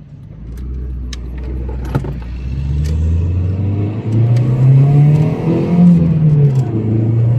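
From inside the cabin, the 1.8 16v engine of a 1997 Fiat Coupe revs and pulls, its rising drone getting louder, with a light jingle of keys at the start.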